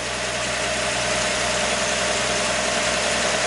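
A 1959 Ford Mister Softee ice cream truck engine idles steadily on half choke with no gas applied, a loud, even, continuous rumble with slight knocking vibration throughout.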